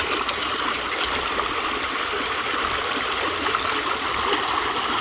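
Water rushes steadily through a gold prospecting sluice outdoors, a loud, continuous broadband wash and gurgle close by, with no talk.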